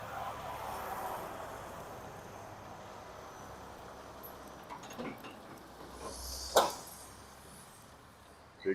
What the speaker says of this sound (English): let's wait till this truck goes by